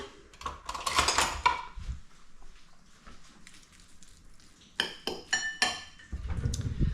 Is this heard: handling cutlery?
yes